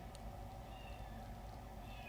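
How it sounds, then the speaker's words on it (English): A cat meows faintly in the distance, a brief call almost buried under a steady loud hum of room noise. "Oh, I hear my kitty."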